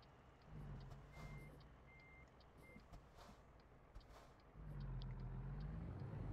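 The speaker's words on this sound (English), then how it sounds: "That truck is stopping and letting us on." A truck rumbles past and slows to a stop in traffic, its steady engine drone low and close, with three short reversing beeps sounding partway through.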